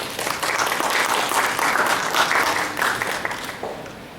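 An audience at a talk on autism and ADHD applauds to welcome a speaker, with steady, dense clapping from a sizable crowd that holds throughout and softens slightly at the end.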